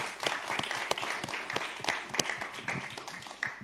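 Audience applause at a community event on protecting Black boys from sexual violence, a steady crowd of hands clapping with a few louder individual claps standing out, moderately distant, no talk over it.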